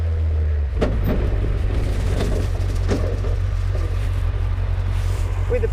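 MK Indy RR sports car with a Suzuki Hayabusa engine and paddle-shift gearbox rounding a roundabout, a steady low engine drone heard close from inside with several brief bursts as gears change.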